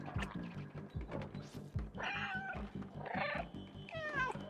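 A cat meows repeatedly in the video game Stray, several drawn-out, close and fairly loud cries over a rhythmic background thumping, with no speech.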